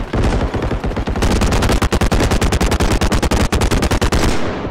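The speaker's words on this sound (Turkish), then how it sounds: "Vallahi ne varsa sıktım ha." Sustained automatic gunfire from the first-person shooter game Bodycam, loud and close, a rapid unbroken rattle of shots lasting several seconds with brief gaps, no talking.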